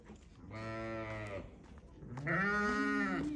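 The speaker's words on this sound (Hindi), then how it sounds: "भेड़ों को देखो उन्होंने शोर मचाना शुरू कर दिता है" Farm sheep bleating near a shed holding cattle: two drawn-out, loud calls with a short pause between them, the second rising at the end, over low background noise.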